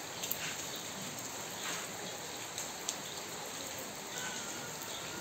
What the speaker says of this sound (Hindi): देखिए मेरे पीछे बारिश गिर रहा है और आवाज साउंड भी सुन सकते हैं बारिश गिरने का